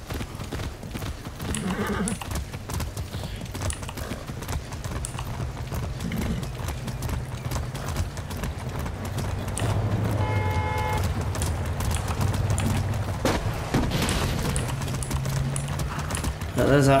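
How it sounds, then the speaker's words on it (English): Hooves of a horse in the video game Far Cry 6 clip-clop in a quick steady rhythm throughout, with a brief whinny partway through and a voice talking over it. "I like riding a horse."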